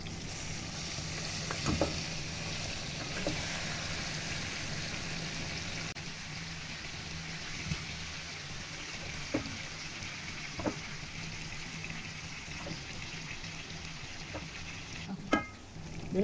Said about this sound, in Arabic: بنفضل نقلب كويس لحد ما المكرونه تشرب الزبده كلها